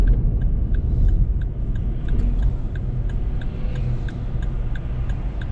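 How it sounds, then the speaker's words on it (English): A small Corsa car is driving along a road, heard from inside the cabin: a steady, loud low rumble of road and engine noise, with a faint regular ticking running through it. "hopefully the road isn't too loud, the car isn't too loud, even though it's only a little Corsa"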